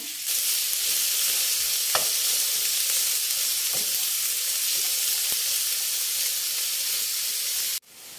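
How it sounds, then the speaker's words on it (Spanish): Sliced onion fries in olive oil in a pan with a loud, steady sizzle and hiss, broken by a few faint stirring clicks, then ending abruptly. "En un sartén colocamos un chorrito de aceite de oliva. Agregamos una cebolla fileteada."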